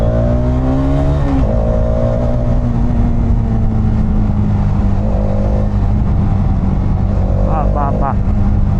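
A Hero Xtreme 250R motorcycle engine hums steadily while being ridden, loud and close with a droning tone that shifts pitch slightly, and someone talks over it in a few places.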